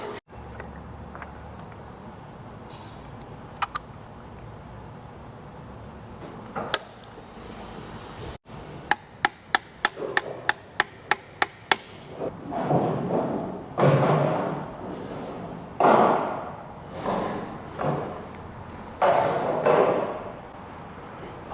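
Worn tappets are pulled from a faulty Mercedes M156 engine, giving a run of sharp metallic clicks and knocks, then scraping and shuffling handling sounds close by, with no talk.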